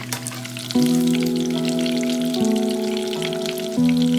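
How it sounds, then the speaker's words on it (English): Fish pieces frying lightly in a pan for a Bengali-style fish curry, a steady close sizzle with a louder crackle starting partway through and continuing alone. "I don't need to fry very brown, or otherwise it's going to shrunk and dry"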